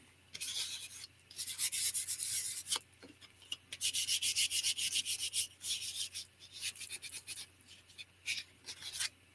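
Close, scratchy strokes of a sanding pad on a playing card rub back and forth in quick bursts, a dry abrasive hiss repeating with short pauses between passes.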